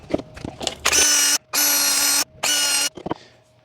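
A power drill drives new screws into a Carver boat under restoration, three loud bursts of whirring motor with brief pauses between them, close up, ending with small clicks and handling noises.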